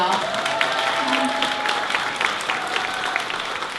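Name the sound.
audience applause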